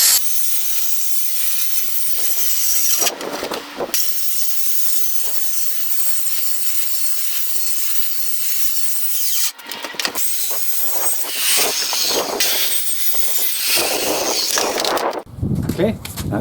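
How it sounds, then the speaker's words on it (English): A power saw cuts Contiboard for a hand-built wardrobe, giving one short rasping burst and then longer, loud cuts close by, with someone speaking between them. "I can get that swing with the power saw, so I don't need to, and I'll just follow the line"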